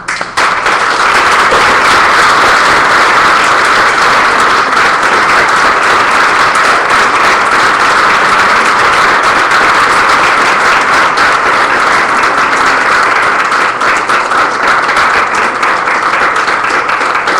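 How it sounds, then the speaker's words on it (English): Steady, sustained applause from a large audience at an awards gala, loud and dense throughout with no talking. "Please join me in a big round of applause for Jocelyn."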